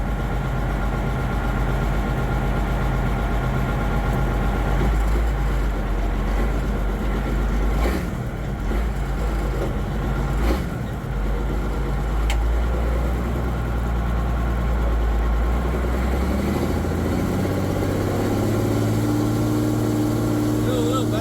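An M35A2 Deuce and a Half military truck being driven, its engine giving a steady loud diesel drone and rumble that stays constant throughout, with shifting tones toward the end.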